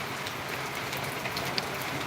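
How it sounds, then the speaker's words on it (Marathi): Steady midday rain pours down outdoors in a garden, a soft continuous hiss with faint scattered drop ticks, alone and at low level. "हे बघा कसा पाऊस पडतो बघा"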